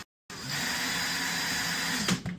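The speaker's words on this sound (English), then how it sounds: "ended up swapping my little screwdriver out for a power drill" A power drill with a small Phillips bit driving screws into a sports card display case, whirring steadily for about two seconds at close range, then ending with a brief catch and stop.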